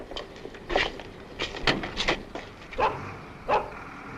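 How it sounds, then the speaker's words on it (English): A small dog yips and barks in short, separate bursts at moderate distance, about six quick barks spaced irregularly, with no talk. "You can put your little doggy in the boot, George."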